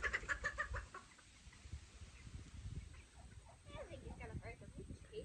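Young chickens cluck and chirp nearby in a busy flock, with scattered overlapping calls and some faint background noise.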